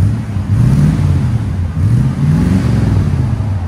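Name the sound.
1980 Mercedes 450SEL 4.5L V8 revving with Borla muffler exhaust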